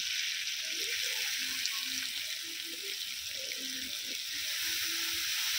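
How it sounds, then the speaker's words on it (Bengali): Water pours steadily into a pan of sautéed potatoes, a continuous loud rush and hiss with faint crackling sizzle underneath, close and without talking. "এবারে দিয়ে দেবো জল।"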